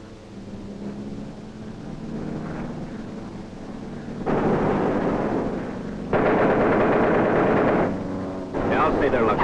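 An aircraft waist gunner fires a machine gun: rattling bursts of gunfire come in loud blocks over engine drone, with a voice speaking under the noise.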